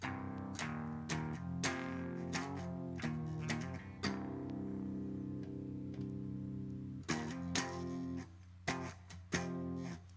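Clean electric guitar notes and chords played in a loose, strummed pattern, bright and steady, with no voices.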